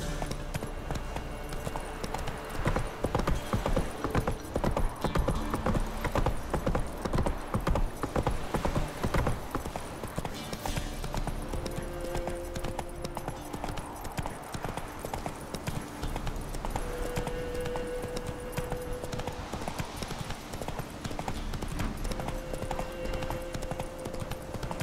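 Geralt's horse Roach gallops in The Witcher 3, rapid rhythmic hoofbeats clip-clopping steadily and loudly for the whole stretch, with occasional game sounds layered over the hooves.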